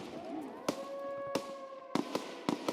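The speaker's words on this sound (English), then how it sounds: "I think a scav just killed one of them with a grenade" Sharp grenade blasts in the shooter game Escape from Tarkov, several short bursts punching through a steady tonal hum, one near 0.7 s, another near 1.35 s, then a quick cluster of three or four toward the end.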